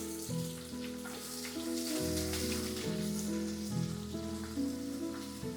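Onions sizzle in hot oil for Andhra pappu, a steady, close hiss of frying that runs unbroken throughout, with a sustained tonal musical bed beneath it.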